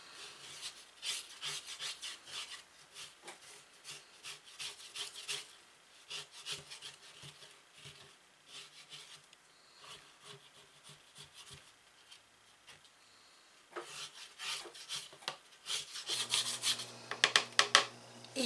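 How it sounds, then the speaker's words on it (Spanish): A spatula scrapes powder from the walls of a blender jar: dry rasping and rubbing scrapes repeat irregularly, close by, in short bursts with brief pauses, growing louder and busier toward the end. "con una espatulita vamos a despegar todo el polvito que se pegó en las paredes de la licuadora"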